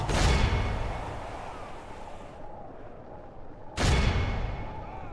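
Two heavy booming blasts a few seconds apart, each with a sharp attack and long rumbling decay, like cannon fire, from cannons firing in the video game Medieval II: Total War.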